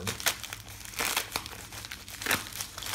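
A plastic bag is crinkled and torn open close up, dense rustling with sharper ripping bursts in waves, no voices.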